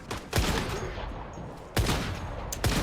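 Gunfire in a video game comes as three loud, sharp bursts spaced over a few seconds, each cracking out and then ringing briefly, with no talk over it.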